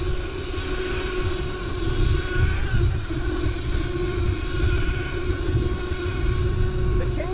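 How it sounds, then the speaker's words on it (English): A Kugoo Wish 01 electric pit bike is ridden, its drive chain giving a steady mechanical whir over a constant low rumble of motion and wind. "The chain's a little loud."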